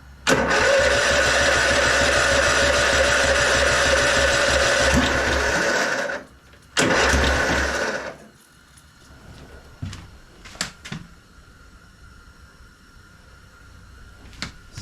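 A 1999 Husqvarna LTH 130 lawn tractor engine cranks hard for about six seconds on a weak jump pack, stops, then cranks again for over a second before falling quiet, leaving a few faint clicks and knocks.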